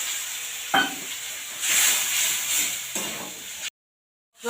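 Cauliflower frying in a pan with chili powder and water added, a steady close sizzle and hiss with stirring scrapes, swelling loud midway, then cutting to silence before a brief return.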